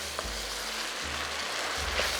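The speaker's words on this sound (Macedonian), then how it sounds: "сега нека се пропржи малку" Green peas fry in a pot for a grashok mandza stew, a close, steady hiss of sizzling oil with faint low background hum and no talk.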